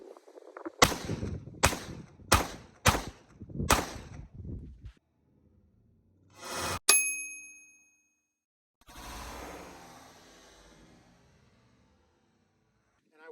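Five sharp, loud Glock 19 pistol shots fire in a quick even sequence outdoors, followed by a metallic ringing ding and later softer rumbling noise.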